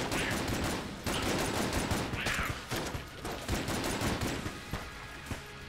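Rapid, dense gunfire from the video game Enter the Gungeon rattles on in steady overlapping bursts, loud and continuous throughout, with no talking.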